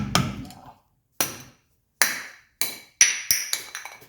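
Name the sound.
hammer knocking the dust cap off a wheel hub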